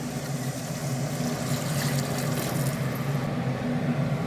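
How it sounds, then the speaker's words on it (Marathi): Hot water pours into a cooking pot for a large batch of chicken rassa, a steady close gushing splash with a faint low hum beneath, and no talking. "मी गरम पाणी टाकते"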